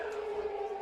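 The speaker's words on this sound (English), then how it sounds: "Third down siren going here at Hurricane High School." A third-down siren sounds at a high school football game at Hurricane High School, Hurricane versus Desert Hills, as one steady sustained tone that holds evenly through the whole moment with crowd noise underneath.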